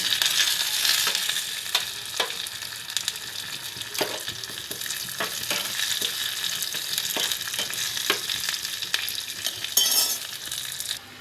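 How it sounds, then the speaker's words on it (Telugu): Tempering spices fry in a small amount of oil for a Malabar spinach and tamarind stew, giving a steady close sizzle and crackle with occasional clinks of utensils throughout. "ఇప్పుడు పోపు వేసుకుందామా"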